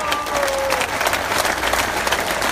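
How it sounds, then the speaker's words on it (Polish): Steady audience clapping at a presentation of the Hetman Zamość football club, loud and continuous throughout with no talk over it. "Wielkie brawa"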